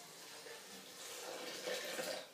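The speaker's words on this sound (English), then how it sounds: "put the boiling water over it" Boiling water is poured over blended corn in a blender jar for soup, a faint, steady liquid rush lasting a couple of seconds.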